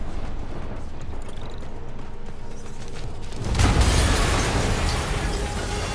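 A sudden broad boom from a PS4 Spider-Man video game explosion hits midway, loud and full-bodied, then a sustained rumbling roar trails off after a quieter ambient game background.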